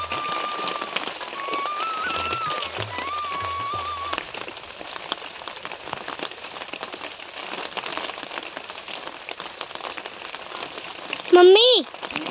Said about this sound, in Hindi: लग रहा है कि अब दोबारा होने लगी है बारिश, टिप टिपा रहा है।